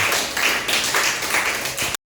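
A classroom audience claps after a group presentation, a brief burst of dense, close applause that stops abruptly.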